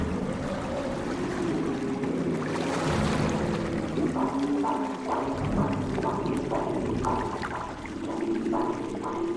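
Fuel gushing from drums onto a ship's deck, a continuous splashing pour with rhythmic gurgles, heard alongside engine-like rumble and faint voices in the background.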